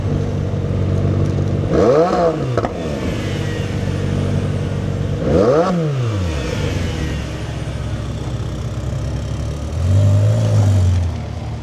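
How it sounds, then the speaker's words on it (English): Ferrari at a Chester cars and coffee meet, with two loud revving engine sweeps rising and falling as it drives off, then lower rumbling and a final engine swell near the end. "Ferrari's off."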